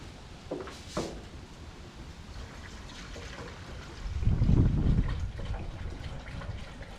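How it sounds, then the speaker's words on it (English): Coolant pouring into the intercooler pump reservoir of a Lightning truck, a faint liquid trickle and gurgle with a fuller splashing pour swelling briefly midway. "Got it filling for right now. Got some coolant I'll add to it."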